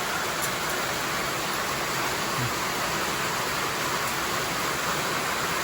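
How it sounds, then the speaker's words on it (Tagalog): Heavy rain from a storm pours steadily during a farm harvest, a dense, even hiss that stays constant throughout with no talk over it. "Ang lakas ng ulan"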